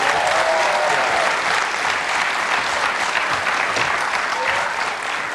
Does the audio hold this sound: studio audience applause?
yes